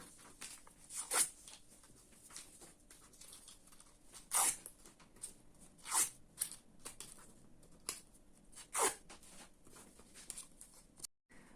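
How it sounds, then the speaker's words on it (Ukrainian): Scissors curling strips of colored paper for a pumpkin craft in a kindergarten construction lesson, heard as a few separate crisp scraping swipes spaced a second or two apart against a quiet room. "Беремо ножиці і закручуємо наші смужки."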